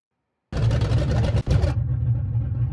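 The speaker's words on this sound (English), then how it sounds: "Holy cow. This thing is loud." Dodge Coronet in BeamNG.drive fires up after a short silence and revs loudly, a dense, throaty engine roar that briefly dips then settles into a steady loud rumble.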